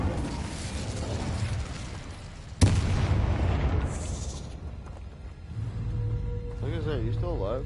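A fire spell explodes in the video game Hogwarts Legacy, a sudden loud boom cutting through continuous game noise and music, with tonal magical effects swirling afterward.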